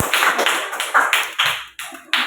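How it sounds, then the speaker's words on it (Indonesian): Hand clapping in a school group session, a handful of sharp, separate claps spaced unevenly, close and fairly loud with no talking. "Tepuk tangan dulu."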